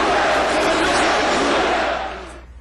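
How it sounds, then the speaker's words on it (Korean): Opposition lawmakers crowded around the Speaker's podium in the National Assembly chamber raise a loud, dense wall of cheering and shouting that holds steady, then begins to fade near the end. "의장석을 에워싸고 있던 야당 의원들의 환호가 쏟아집니다."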